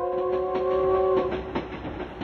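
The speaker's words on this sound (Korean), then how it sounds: "근데 요즘 이런 기적소리 내는 기차는 없잖아요." A steam train whistle sound effect plays on a radio show, a loud chord-like whistle held for just over a second, then fading into soft rhythmic train clatter.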